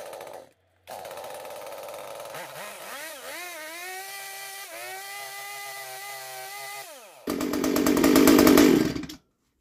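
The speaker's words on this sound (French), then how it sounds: "l'accélérer à fond pour voir si vous avez bien revissé le frein de chaîne" A chainsaw, a Stihl-type 194 being serviced after its chain brake was screwed back on, starts with a few pulls, idles with rising and falling revs, then is opened up to a loud full-throttle scream before cutting off.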